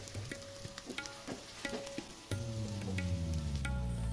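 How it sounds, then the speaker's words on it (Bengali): Spice paste for a broiler chicken kosha is stirred in a pan, with repeated scraping strokes over a steady sizzle that grows louder and fuller midway through; no one speaks. "এবার নেড়ে চেড়ে মশলা কষাতে থাকো"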